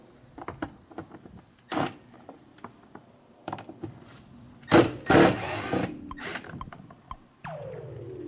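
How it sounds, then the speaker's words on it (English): A drill driver with a Phillips bit backs screws out of a Honda interior door panel during a power window repair, giving several short, close whirring bursts between quieter handling clicks and rattles. "grab you either a Phillips screwdriver or a drill driver with a Phillips head on it"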